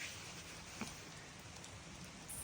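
Rain falls steadily outdoors with a faint, even hiss of drops and no voices.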